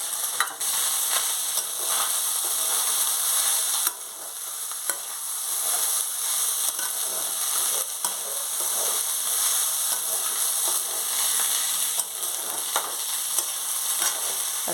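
Leftover rice fries and is stirred in a pan, a dense continuous sizzle and hiss with scraping strokes mixed in. It holds steady and close for the whole stretch, and no one speaks.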